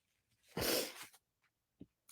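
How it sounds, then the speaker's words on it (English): A single loud, sharp sneeze bursts out close by, followed by a couple of soft breaths or sniffs. "I always sneeze"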